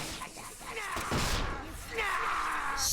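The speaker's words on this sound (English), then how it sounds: "Explosion!" A muffled burst and crash from an explosion in the video game Deadly Premonition 2, landing amid game noise with gunfire-like cracks and a rumbling tail, fairly loud against the surrounding sound.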